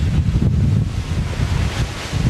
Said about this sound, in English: you start to hear the wind flying through pieces of metal and stuff